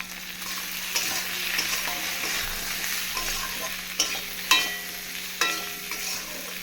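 Spices and green chillies being fried and stirred for a hot rohu fish curry with taro and potato, a soft steady sizzle broken by a few sharper scrapes and clinks near the end.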